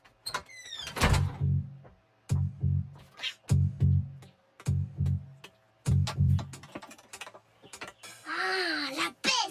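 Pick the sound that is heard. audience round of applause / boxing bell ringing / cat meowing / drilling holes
cat meowing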